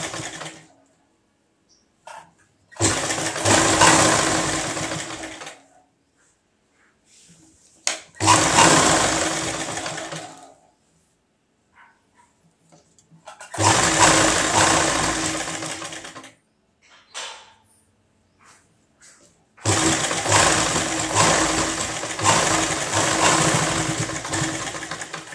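A sewing machine stitches piping thread onto a blouse in four long bursts of steady whirring, each lasting a few seconds, separated by quiet pauses.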